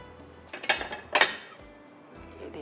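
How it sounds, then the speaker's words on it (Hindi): A plate set down on a kitchen counter while a dessert is prepared: two quick ceramic clinks about half a second apart, close and fairly quiet, with no voices. "इसके नीचे हम रख देते हैं एक प्लेट"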